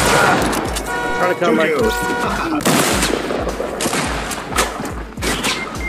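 Fortnite gunfire crackles in rapid repeated bursts, loud and near, with a player talking over the shots.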